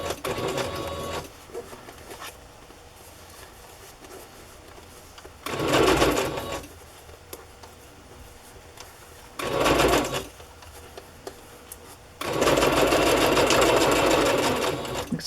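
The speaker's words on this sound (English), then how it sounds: "I will continue sewing across the top." Sewing machine stitching across chiffon and tulle ruffles, three clear bursts of fast whirring stitching separated by quieter pauses, with a longer sustained run at the end.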